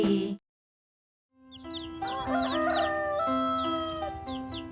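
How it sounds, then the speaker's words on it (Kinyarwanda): Rooster crowing and hens clucking on a farm where a family feeds chickens and chicks, a brief silent gap followed by a long, loud crow with overlapping clucks and calls close by. "Uyu munsi Akili yafashije se kugaburira isake n'inkokokazi hamwe n'imishwi yazo"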